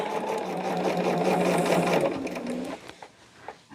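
A sewing machine stitches pieces of a jelly roll quilt in one steady, fast run of close whirring that stops near the end, followed by a few faint handling sounds.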